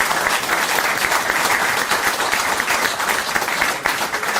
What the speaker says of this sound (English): So maybe just a round of applause for Niall Newberry, for John Temple, Rita Whelan, and of course, Ciaran Kilduff